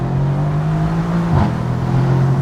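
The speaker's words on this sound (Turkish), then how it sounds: "Spor egzoz zaten devrede ve bu aracın keyfini sürmeye devam ediyorum." Mercedes-AMG C63 S Cabriolet in race mode with sport exhaust engaged, a loud, close steady engine drone that dips briefly as it shifts or lifts, then settles back into a sustained hum.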